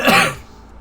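A single rough throat clearing with a short cough, close and loud, fading out quickly with no talk.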